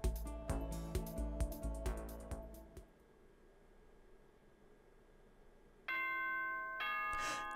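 Two-tone school announcement chime from the video game Danganronpa rings out clearly and alone near the end, after a stretch of tinkling bell-like game music fades into quiet.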